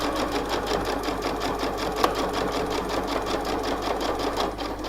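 A sewing machine with a regular zipper foot stitches an invisible zipper into a skirt, a fast steady rhythmic whir and tapping heard close, with no talk.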